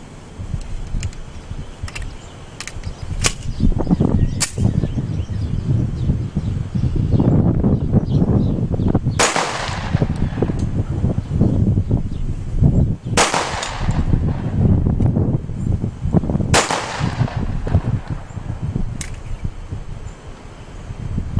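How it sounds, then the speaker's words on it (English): Three sharp gunshots from a reworked Colt Gold Cup 1911 pistol, set up for IDPA shooting, crack out at spaced intervals over steady outdoor background noise and rustle. "We're going to try 3 rounds this time."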